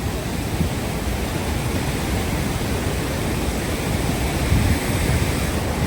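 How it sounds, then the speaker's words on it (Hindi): Rhine Falls in Switzerland roars as a steady, dense wash of rushing water, loud and unbroken throughout, with a windy, surf-like quality. "Welcome to Switzerland Ryan waterfall."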